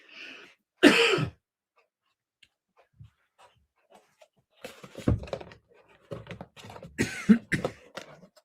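A person coughs in several separate harsh bursts with quiet pauses between them, close to the microphone. A short cough comes first, then a cluster of rougher coughs later on.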